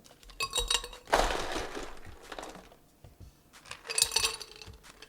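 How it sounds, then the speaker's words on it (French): Ice cubes dropped into a cocktail glass during cocktail preparation, giving bright glassy clinks and rattles in a few separate bursts, the loudest cluster near the start and another toward the end. "vous voyez comment je mets des glaçons"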